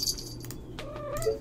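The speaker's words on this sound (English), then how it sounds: "My trusty assistant cat is here" A domestic cat meows briefly up close during a They Are Billions gaming session, a short clear cry over quiet background hum with no talking.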